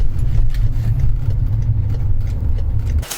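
A BMW with a 3-litre diesel engine drives into a garage, its steady low engine rumble holding close and even for a few seconds before cutting off abruptly.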